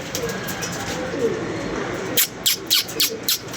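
A gathered flock of pigeons, adults and young, calls in a continuous low cooing murmur, followed by several sharp fluttering bursts that sound like wingbeats close by.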